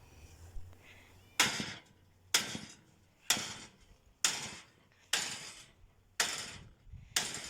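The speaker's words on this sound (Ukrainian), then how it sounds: "Іноді без кувалди ремонту не зробить." Heavy sledgehammer strikes ring out on the metal frame of a small tractor trailer under repair: seven loud, sharp blows at a steady pace about one per second, each with a brief metallic ring, close by and without talk.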